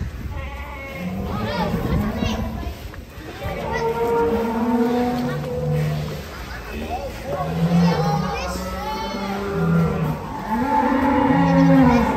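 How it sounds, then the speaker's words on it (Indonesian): A giant cow near its pen gives long, loud, drawn-out moos and lowing calls one after another, with other livestock cries and crowd voices mixed in. "Selanjutnya ini sapi misterius"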